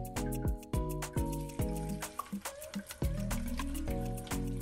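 Water poured into a pot while making Jamaican sorrel drink with ginger, a series of splashing, gurgling pours with repeated sharp clinks and drips, close and fairly loud, with no talk.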